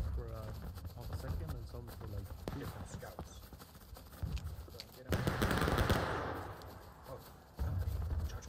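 A volley of musket fire erupts in a War of Rights Civil War battle, a dense crackling burst after an officer's shouted command, followed by a second burst near the end under ongoing voices.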